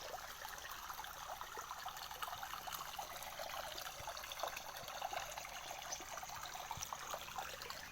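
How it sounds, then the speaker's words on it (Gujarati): Flowing water from a spring-fed stream at a temple site on the Satthamba road, a steady rushing trickle with a bright hiss that holds evenly, faint and unbroken, with no voices. "એ વહેતા પાણીનું વહેણ છે"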